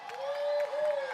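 A large arena crowd at a Fortnite Pro-AM esports event in Margaret Court Arena roars with sustained cheering and applause, a dense, loud wash of voices and claps with a steady tone running through it.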